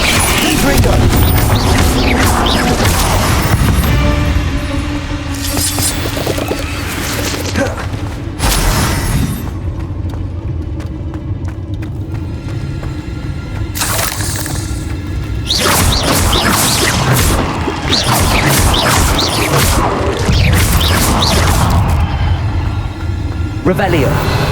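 Repeated Confringo fire-spell blasts in the video game Hogwarts Legacy, loud booming explosions with whooshes and crashes arriving in bursts separated by brief quieter gaps, with speech over the action.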